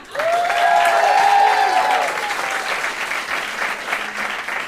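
A live podcast debate audience breaks into loud applause with cheers and whoops rising over it early on, then settling into steady clapping that continues to the end.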